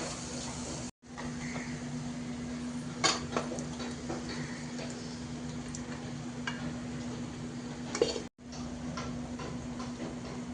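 Vegetables go into a pan of oil-cooked masala and are stirred, giving soft sizzling and a few scraping spoon knocks against the metal pan over a low steady hum.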